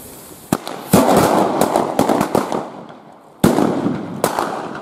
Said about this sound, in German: So, jetzt machen wir den Böllerkreis.